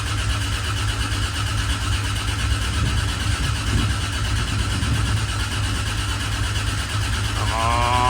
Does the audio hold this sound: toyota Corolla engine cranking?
yes